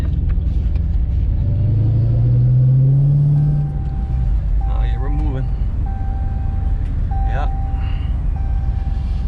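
A Chrysler 300 with a Hellcat engine conversion rumbles steadily at idle, swelling briefly as it revs, with a few faint beeps and tones over the low drone.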